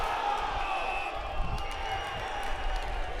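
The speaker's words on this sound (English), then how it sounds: "And the crowd goes off." Crowd at a country Australian football senior grand final, Birchip Watchem against Donald, rumbling and cheering as a steady wash of noise with a commentator talking over it.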